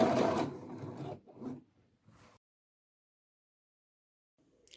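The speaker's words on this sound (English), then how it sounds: "I am sewing the front leg to the back leg at the inseam." Sewing machine stitching the front leg of a pair of trousers to the back leg at the inseam, a close, loud rapid whirring burst followed by a few short stitching runs, then silence.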